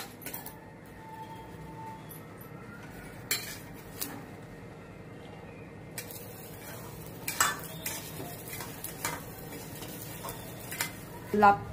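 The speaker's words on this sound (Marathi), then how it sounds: "आपण लापशीचा रवा भाजून घेऊया, थोडं तेल तूप टाकून" Coarse semolina roasts in a pan with oil and ghee while a spoon stirs and scrapes, giving faint sizzling and intermittent metallic clinks at close range.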